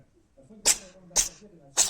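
A cat sneezes three times in a row, with sharp, hissy bursts about half a second apart, heard clearly over someone speaking Russian.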